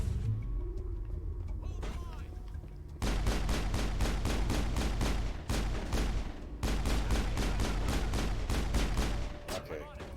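Rapid pistol fire in Mass Effect comes in two long bursts of evenly spaced, sharp shots, loud and close, separated by a brief pause, with quieter game ambience and a few electronic tones before and after.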